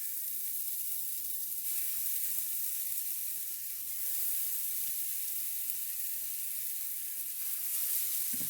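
Beef browning in a soup pot for homemade albondigas soup, its fat rendering over moderate heat: a steady, even sizzle and hiss that runs throughout, close and unbroken, with no voices.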